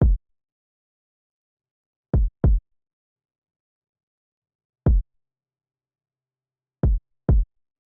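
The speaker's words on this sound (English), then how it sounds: "I have two kicks and I believe they are complementing each other." A dry, low kick drum plays a sparse syncopated pattern of six hits, some in quick pairs, with silence between them.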